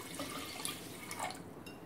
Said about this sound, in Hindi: दाल को मैंने प्रेशर कुकर में डाल दिया है। इसमें मिलाऊंगी मैं 1 बड़ा मग पानी का।